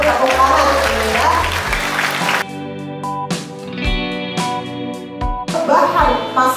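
Applause from an audience at a village government event in Purbalingga, clapping mixed with music and a voice over a sound system, with bursts of louder clapping between musical stretches.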